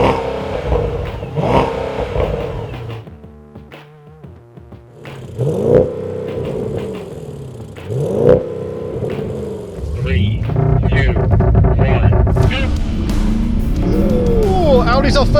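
Three performance sedans, a 2024 Mercedes-AMG S63, Audi S8 and BMW M70, accelerate hard in a drag race, engines rising in pitch through gear changes and then swelling into a loud sustained roar near the end, with excited commentary throughout.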